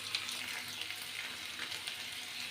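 Boiled potatoes and taro fry in a pan with a quiet, even sizzle and light crackles, steady and fairly soft with no other sounds.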